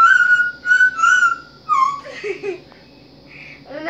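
An African grey parrot whistles an opera tune nearby, several clear sustained whistled notes followed by softer chattering and vocal sounds, loud and close with no human talk.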